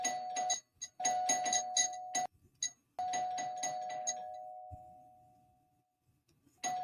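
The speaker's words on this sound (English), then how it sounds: "did I hear my bell?" A doorbell rings in several quick bursts of chimes, then gives a longer tone that slowly fades to silence before chiming briefly again. The sound is clear and fairly close, with no talking over it.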